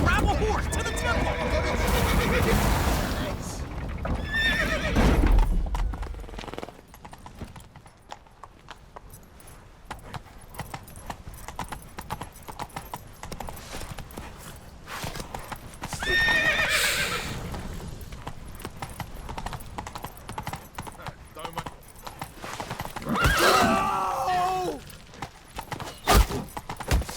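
Horses neigh and whinny with clip-clop hoofbeats and jangling tack in The Witcher 3, the loud whinnies rising in three bursts over steady trotting, with voices talking throughout.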